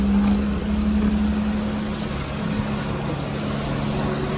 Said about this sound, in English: You hear the motor.